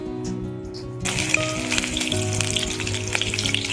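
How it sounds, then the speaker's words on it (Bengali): Small paneer popcorn pieces frying in oil, where a crackling, bubbling sizzle starts abruptly after a moment of quiet and then continues loud and steady, with scattered pops. "এটা জাস্ট ফ্রাই হবে তাই তো এই তেলে?"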